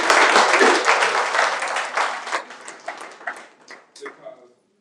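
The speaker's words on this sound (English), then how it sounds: "That deserves a clap." An audience breaks into loud applause that starts full and then thins out into a few scattered, separate claps before stopping, in a live-stream room setting.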